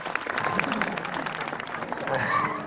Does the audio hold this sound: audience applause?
yes